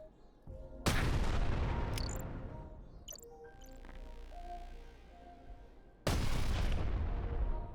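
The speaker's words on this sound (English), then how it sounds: "Look as I throw a grenade at it." A grenade going off in the video game Farworld Pioneers: two loud booming blasts, one near the start and another near the end, each trailing into a rumbling decay, with faint game sounds in between.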